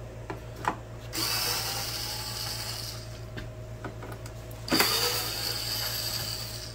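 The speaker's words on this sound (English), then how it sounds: "So, taking the screws out, so the screws are out of it." A power drill backing screws out of a Roland Cube Street EX amplifier speaker, two sustained whirring runs with clicks and taps between, close and fairly quiet over a steady low hum.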